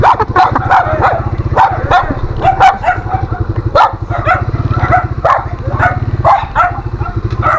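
A dog barks repeatedly in sharp, rapid bursts over a steady low hum, the barks close and loud with brief yips between them.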